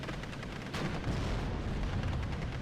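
Mortar and gunfire in the World War II strategy game Steel Division: Normandy 44, a dense, loud barrage of booming impacts and rapid crackling shots overlapping continuously.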